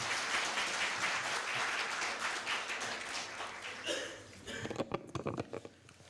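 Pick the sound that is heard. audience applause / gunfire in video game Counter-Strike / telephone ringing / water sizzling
audience applause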